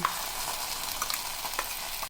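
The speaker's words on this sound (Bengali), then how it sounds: "সবটা পোস্ত বাটা এর মধ্যে দিয়ে দিলাম, খুব ভালো করে মিশিয়ে নেব।" Onions frying in a pan as poppy seed paste is stirred in, giving a steady close sizzle with a few soft scraping stirs, no voices.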